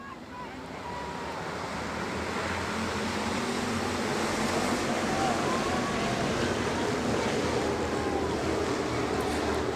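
Pack of twenty Hobby Stock race cars taking the green flag at a speedway, a dense, steady roar of engines that swells within the first second and holds loud and continuous, with a windy, surf-like wash over it.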